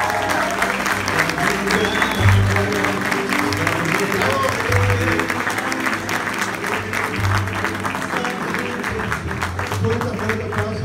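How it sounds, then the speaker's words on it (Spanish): Audience applause fills the whole stretch, a sustained dense clapping from a large crowd at a Pachuca event, with some crowd noise and low rhythmic music underneath. "Fuerte aplauso, muchas gracias por lo que están construyendo este equipo."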